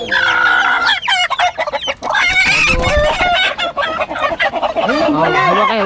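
A mother hen clucks loudly and continuously at close range, with overlapping squawks and cackles, probably from other fowl nearby.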